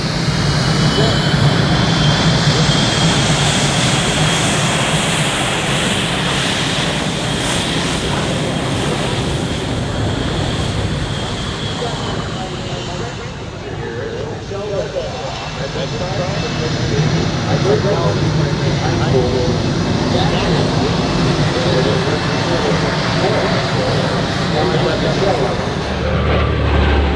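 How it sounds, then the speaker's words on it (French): An FG-1D Corsair flies at the Aero Gatineau-Ottawa air show, its piston engine roaring loudly and steadily for the whole stretch, swelling and easing slightly as it passes, with voices talking over it. "Superbe appareil. Et avec le rugissement de ce moteur."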